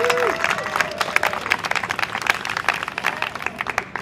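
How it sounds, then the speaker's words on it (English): An outdoor crowd at an animal-rights march claps for a speaker, the applause uneven and scattered, with distinct individual claps and a brief voice at the start, slowly thinning toward the end. "Could we have a round of applause for Julia?"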